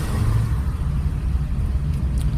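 Car pulling forward gently during a beginner driving lesson, a steady low engine rumble and road drone inside the cabin with no sharp revving.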